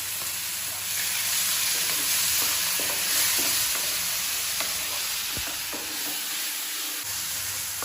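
Vegetables with ginger, green chilli, seeds and turmeric fry in a pan while a utensil stirs them, giving a steady close sizzle broken by scraping strokes and taps against the pan.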